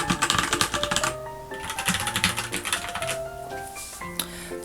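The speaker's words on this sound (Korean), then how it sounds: "청축이 딸깍딸깍이라면 적축은 서걱서걱입니다" Rapid, steady typing on a mechanical keyboard with red switches, close up, with soft muted keystrokes in a continuous flowing rhythm.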